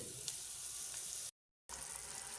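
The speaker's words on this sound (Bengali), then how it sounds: "পেঁয়াজগুলো অনেকটা ভাজা হয়ে গিয়েছে আমরা চেষ্টা করি যে রান্নার যে শব্দটা সেটা যেন আপনারা পান" Onions frying in a cooking pot give off a steady, dense sizzle and crackle up close, briefly cut to silence partway through before resuming just as strongly.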